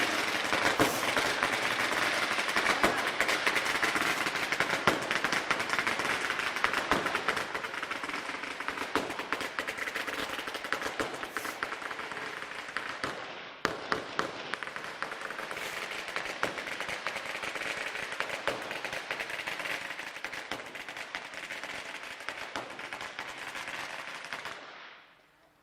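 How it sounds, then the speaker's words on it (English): Long, dense barrage of firecrackers for the Year of the Ox in a Chinese village, crackling and popping nonstop, loud and close, with rapid sharp bursts layered over each other before cutting off at the end. "firecrackers."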